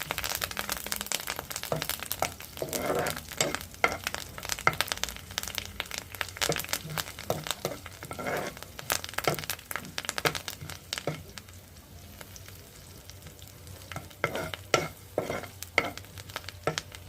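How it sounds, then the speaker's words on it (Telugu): Curry leaves and tempering spices frying in hot oil, a dense crackling sizzle over about seventeen seconds, dotted with many sharp pops and stirring scrapes, loud and close, with no speech. "ఇదిగోండి వేగిపోయింది తాలింపు"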